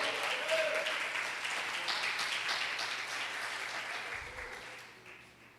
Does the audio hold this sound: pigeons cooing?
no